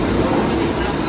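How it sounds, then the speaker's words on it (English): A New York subway number 1 train pulls into the station, a loud, steady rumble of wheels and cars filling the platform, with no squeal standing out over the continuous roar. "So now at the moment I will take subway number 1. My train 1 number is coming."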